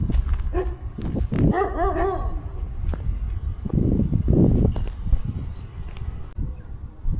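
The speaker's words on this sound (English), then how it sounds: "the neighbor dogs ain't too happy with me" Neighborhood dogs bark beside an old Zephyr station, a flurry of sharp barks and yips with a whining, harmonic howl near the start, then rougher barking continuing throughout against steady outdoor background noise.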